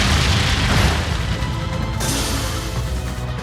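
Brionac weapon attack firing in the Trails of Cold Steel III video game, a loud booming blast with a dense rumbling crash that sustains and shifts midway before tapering slightly.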